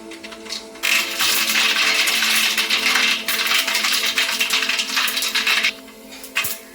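Mustard seeds spatter and crackle in hot oil in a pan, a dense burst of sizzling pops that runs for several seconds and then eases off.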